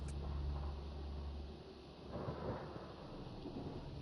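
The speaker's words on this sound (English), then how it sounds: "Not with these storms." Thunderstorm on an alien planet in Mass Effect: Andromeda, a faint low rumble of thunder that swells and fades with rain-like hiss in the background, no talk.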